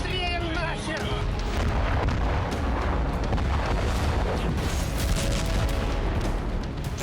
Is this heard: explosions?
yes